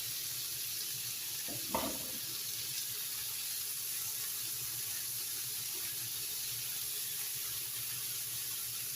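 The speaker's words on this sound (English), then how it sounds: "we're just heating up the corn and getting a little bit of char on it" Corn kernels sizzling steadily in a hot skillet with less than a teaspoon of oil, a constant hissy fry noise throughout, with a brief clunk of movement near the start.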